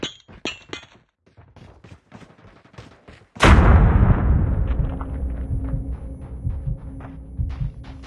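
A grenade blast in Call of Duty search and destroy bursts out loud and close, leaving a rumbling tail, with sharp gunshots crackling before and after it.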